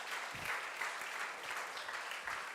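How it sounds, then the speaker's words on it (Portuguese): A church congregation claps together in a short, quiet burst of applause, a soft even patter heard from a distance with a few low thumps. "Você pode aplaudir ao Senhor por isso?"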